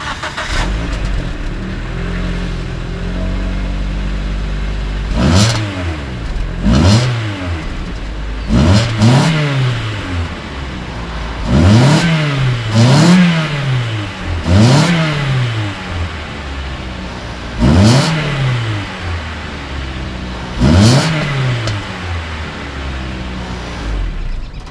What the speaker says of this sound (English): get kind of a note of how the exhaust sounds just as it is